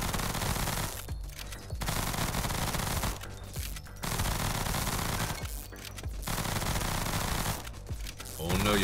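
Rapid automatic gunfire from a video game, a dense continuous rattle at a blistering rate of fire that blurs into a motorboat-like drone, coming in four long loud bursts separated by short pauses.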